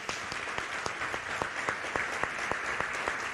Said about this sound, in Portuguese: Vamos aplaudir Jesus pela vida deles.